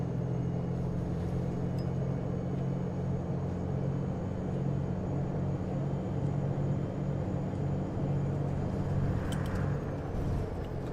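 A bus driven hard in the OMSI 2 simulator gives a steady low engine drone and road rumble that holds level and continuous throughout, with a faint high whine above it.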